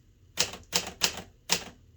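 Typing on a 1958 Hermes 3000 manual typewriter with a US QWERTY keyboard: four sharp, close key strikes in an uneven rhythm, each with a brief clacking decay, and no voices.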